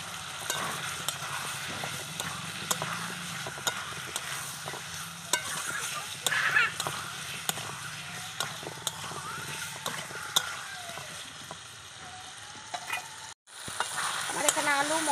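New potatoes stirred and fried with spices in a pan, a continuous close sizzle with frequent spatula scrapes and clicks, steady throughout with a brief dropout near the end, no voices.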